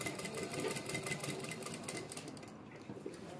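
Sewing machine stitching a placket on a kurta, running steadily and close for the whole stretch with a continuous mechanical hum and no voices.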